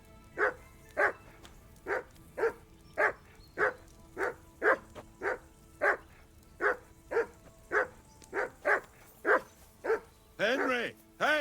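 Steady, close barking from a dog in the medieval game Kingdom Come Deliverance II: some fifteen loud, evenly paced barks, closing with a drawn-out whimpering howl.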